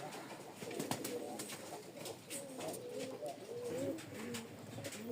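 Pigeons of a tiger-patterned breed coo softly in a quiet loft, with repeated low murmuring calls and faint chirps running steadily throughout.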